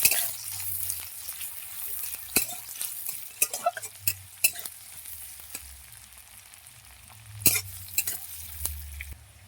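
Onion frying in oil until reddish crackles softly beneath repeated sharp scrapes and clinks of a spoon stirring in the pan, with a few louder knocks scattered through.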